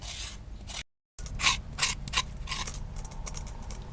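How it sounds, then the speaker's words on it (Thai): Continuous close scraping and grating of coconut meat, with rough bursts, briefly cut to silence near the start, then steady rasping strokes. "ก็นำมะพร้าวของเรามาขูดนะคะ"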